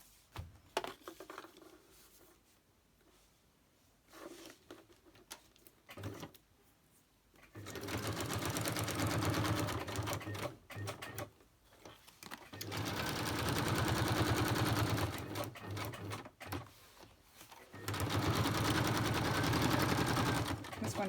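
A sewing machine stitching fabric pockets on a photo folder runs in long, steady bursts of rapid needle chatter, with quieter pauses and handling noises between the runs.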